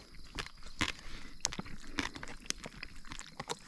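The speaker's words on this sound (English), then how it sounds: "Got some crunchy noodles in there." Someone eats crunchy, undercooked noodles at a riverside camp, giving a run of close, irregular crunching bites and chewing clicks, faint and with no talking.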